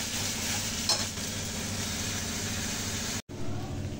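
Spice masala frying in oil in a pan for chana masala, a steady close sizzle with a brief stirring clatter early on and a momentary dropout near the end.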